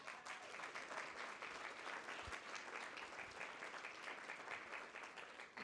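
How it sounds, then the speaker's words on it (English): An audience at an Alberta public-interest rally breaks into steady, continuous applause, a dense wash of clapping that holds evenly throughout with no voices over it. "And so give yourselves a round of applause."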